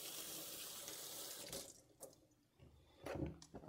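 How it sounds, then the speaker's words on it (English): Hands are rinsed under a running kitchen tap while making Italian doughnuts, with a steady faint stream of water that breaks off midway and then splashes back briefly. "rinse my hands real quick"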